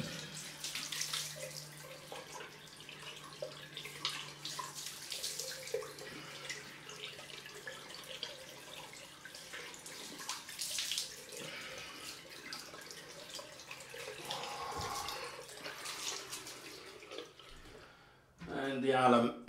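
Cold water runs steadily from a tap with splashing and occasional drips, while a person talks over it after a straight-razor shave; the flow cuts off near the end.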